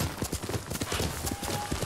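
Horse hooves galloping in the video game Ghost of Tsushima, a fast, even run of close, punchy hoofbeats throughout, with no talk over them.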